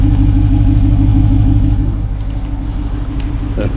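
A BMW X5 with a twin turbo V8 engine gives a deep steady idle rumble close by that eases slightly partway through.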